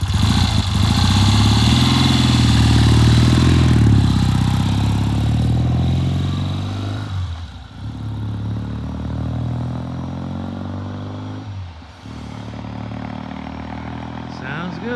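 A motorcycle engine on a test ride runs loud and close, rising and falling with revs before easing into a lower, rougher running note with two brief dips, while people talk nearby.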